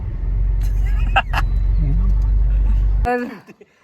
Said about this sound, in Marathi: बघा, पोलीस पण आमच्या बरोबर ट्रॅफिक मध्ये अडकले